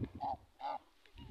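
Two loud, nasal domestic goose honks about half a second apart, close by, followed by softer low calls from other geese, outdoors on a windy day.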